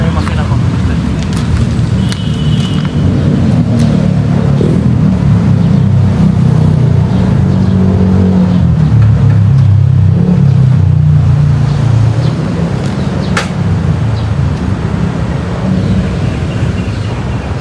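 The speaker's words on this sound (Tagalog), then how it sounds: "Buksan ko muna yung makina ko." A vehicle engine starts and settles into a steady rumbling idle, heard close and loud throughout, with intermittent rattles and a sharp click near the end.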